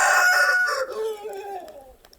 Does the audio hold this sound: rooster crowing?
yes